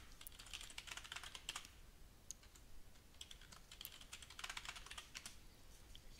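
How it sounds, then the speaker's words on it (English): A computer keyboard is typed on at close range in two quick bursts of soft clicking keystrokes, separated by a brief pause, in a quiet room with no talking. "So let's just make Bob's password"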